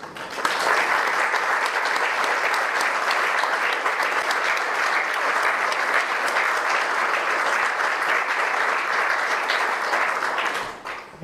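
After a lecture on climate warming and disease, an audience applauds in a dense, sustained wall of clapping that holds steady for about ten seconds before tapering off at the end.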